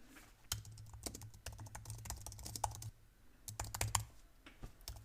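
Rapid clattering keystrokes on a computer keyboard, close and continuous with a brief pause midway, over a low electrical hum.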